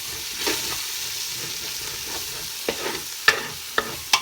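A spoon stirs tomatoes into egusi soup in a pot, scraping and clacking sharply against the sides several times over a steady low sizzle of frying, close and clear with no talking.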